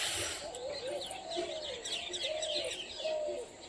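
Birds chirp busily in the background while soft cooing calls repeat several times, steady outdoor ambience of a foggy winter morning throughout.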